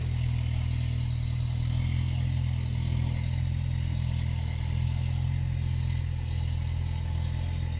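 A steady low engine drone runs continuously throughout, loud and unchanging, like a tractor idling nearby with faint clatter.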